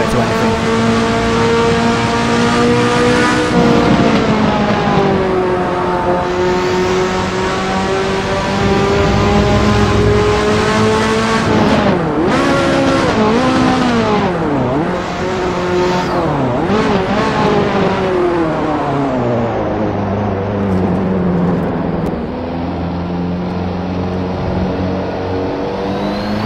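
Ferrari F40 in the racing game Assetto Corsa, its gear whine and turbo rising and falling in continuous loud waves as the engine revs up and down through shifts, with no talk.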